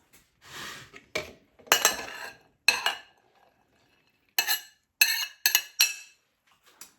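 A spoon gently mixing tinned potatoes and mayonnaise-dressed salad in a bowl: a few separate soft clinks and scrapes against the dish, close up, with short quiet gaps between them.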